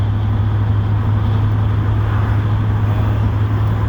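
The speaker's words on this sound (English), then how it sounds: "Sorry about the wind drag." Steady low rumble of wind noise inside a moving car, a constant droning hum with no talking.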